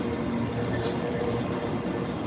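A Class 719 train arrives at an airport railway station: a steady, mid-loud rolling rumble with faint higher squeals on top, close by, and no talking.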